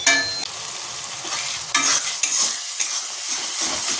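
Curry spice masala frying and being stirred in a pan, with a steady close sizzle broken by scraping strokes of a spoon or spatula, alone with no voices.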